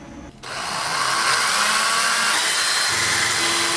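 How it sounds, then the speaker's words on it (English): Power drill boring holes through 2013-or-later Subaru BRZ / Scion FR-S OEM tail light housings, a steady loud whine that starts after a brief pause and holds continuously close by. "I'm going to have to drill each one of these"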